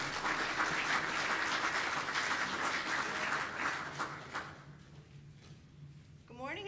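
An audience in a conference room applauds to welcome a speaker to the podium, a dense burst of clapping that fades after about four seconds into room noise and shuffling.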